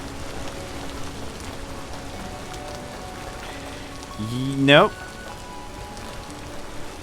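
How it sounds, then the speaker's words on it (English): Steady rain falls in the Vintage Story video game, a continuous even patter throughout, with a brief spoken word and a short tonal sound partway through. "Yeah, even with all this rain,"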